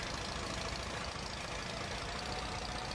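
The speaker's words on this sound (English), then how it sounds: "Ooh, this tractor's struggling a little bit here." Tractor engine in Farming Simulator 22 labouring under a heavy load, a steady, dense rumbling drone that holds constant throughout with no speech.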